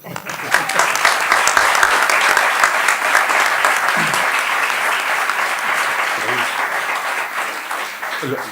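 Loud, sustained applause from a crowd at a scientific presentation, dense clapping continuing steadily for several seconds with a few faint voices underneath.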